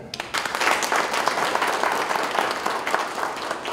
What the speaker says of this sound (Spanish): Fuerte voto el aplauso para Yasmín Soledad.